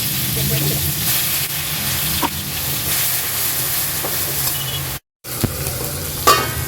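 Ginger and garlic paste sizzles in hot oil in a pan, a steady close hiss with a few stirring scrapes and one brief dropout.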